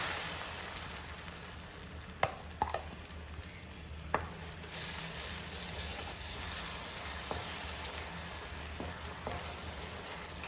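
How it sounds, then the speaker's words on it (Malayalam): Beaten salted egg scrambling in a hot frying pan, a steady soft sizzle with a few faint scrapes and taps of a spatula, close and fairly quiet with no talking. "ഇത് നന്നായിട്ട് സ്ക്രാമ്പിൾ ചെയ്തെടുക്കണം."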